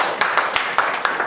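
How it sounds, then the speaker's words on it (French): Sparse audience clapping at a French-language tech talk on functional event sourcing, about six distinct claps scattered unevenly across a short moment rather than full applause. "Applaudissez si vous l'avez déjà fait"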